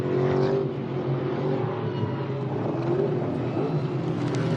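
TA2 muscle race cars at Winton Motor Raceway in Australia roar steadily as they come through to start another lap, a dense, continuous loud engine drone.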